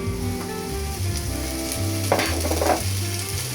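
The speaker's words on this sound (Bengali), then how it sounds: "এখন আমি আলুগুলো দিয়ে দিব এখানে" Potatoes dropped into a hot oiled pan, giving a steady close sizzle that flares into a louder crackling burst partway through, then settles back to a continuous fry.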